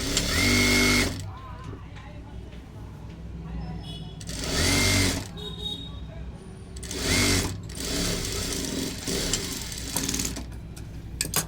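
A sewing machine stitches a blouse sleeve in loud separate bursts at the start, around four to five seconds, around seven seconds and again near the end, with a quieter hum and a voice talking between runs.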